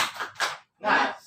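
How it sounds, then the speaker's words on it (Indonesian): A group of women claps a short rhythmic spirit clap during a health and nutrition session, in quick bursts broken by a brief pause, fairly close and loud. "Tepuk semangat dulu yuk."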